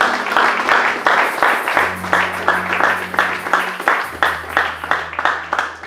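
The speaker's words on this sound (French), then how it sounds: "On acclame le Seigneur." Church congregation applauding in steady rhythmic claps, loud and close, with sustained organ or keyboard tones held underneath throughout.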